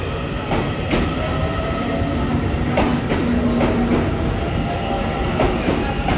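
A ten-car EMU900 electric multiple unit commuter train departs on the Yilan line in Taiwan, a loud steady rumble of rolling wheels with faint rhythmic clicks over the rails.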